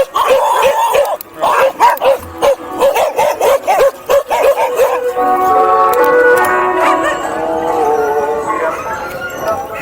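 Several dogs bark and yip in rapid repeated bursts as they chase along a street early in the morning, close and loud, then shift into higher whining and howling, with a person's voice calling among them.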